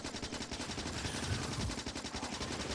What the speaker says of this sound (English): So those friendly turrets behind me are actually defending me while I shoot this.